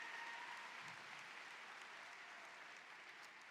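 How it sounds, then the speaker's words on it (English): Graduating students at an Urbana High School graduation ceremony applaud in a steady, even wash of clapping that sounds faint and distant throughout. "Give yourselves a round of applause if you're excited about being here today"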